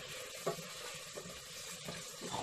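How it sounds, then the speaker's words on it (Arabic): Vegetables frying in a pan for Turkish-style red lentil soup, a steady, soft sizzle with faint stirring clicks running throughout, quiet and close with no talking. "الخضر تاعي تتقلى"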